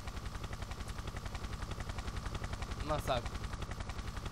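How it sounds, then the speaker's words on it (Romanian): A Tomb Raider III game helicopter gives off a steady, throbbing rotor chop throughout, with a brief burst of voice partway through. "Aterizeze elicopterul ăla handicapat."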